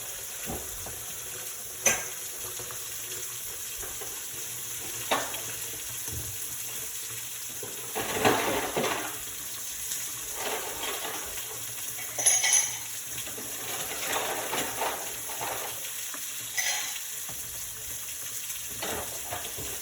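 Water pours and splashes out of a kitchen pot of boiled eggs in scattered bursts, with small clinks and gurgles, close by and with no talking.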